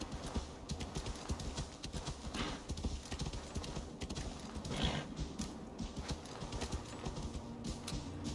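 A horse galloping in the video game Assassin's Creed Valhalla: quick, close hoofbeats pounding in a continuous rhythm throughout, with no voices over them.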